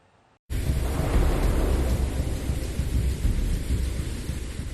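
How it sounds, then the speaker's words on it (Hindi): Torrential monsoon rain pours with rolling thunder, a loud, steady, dense roar of downpour that bursts in after a brief near-silence and continues unbroken. "हफ्ते भर से जारी मूसलाधार बारिश थमने का नाम नहीं ले रही।"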